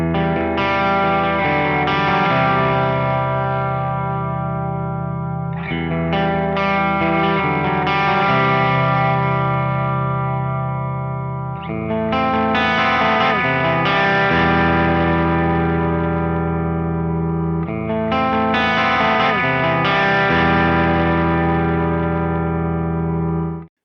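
An electric guitar with its bridge pickup runs through a York Electronics Royal Pain V2 overdrive pedal, playing sustained distorted chords in four repeated phrases. The tone is warm and saturated, loud, with no talking.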